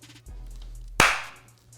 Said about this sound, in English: Why you put that clap in there?